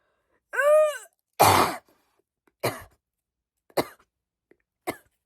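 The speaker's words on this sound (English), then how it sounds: "Sorry, I was coughing." A vocal groan followed by a series of harsh coughs, one loud and then three shorter ones spaced apart, close to the listener.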